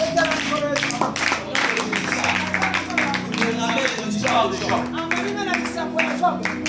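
A church congregation claps in rhythm to acclaim Jesus, a dense, steady run of hand claps filling the space, mixed with voices and what sounds like music underneath.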